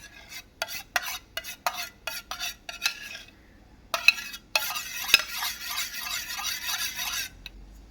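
Four crushed camphor tablets, as a powder, are stirred into a mixture: a spoon first taps and clinks against the bowl in short bursts, then scrapes in a steady, close, continuous stir.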